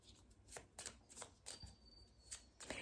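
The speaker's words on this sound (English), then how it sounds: "I'm going to pull a happiness card." Tarot cards are shuffled by hand in a steady rhythm of crisp riffling bursts about twice a second, close up and fairly soft, with no one speaking.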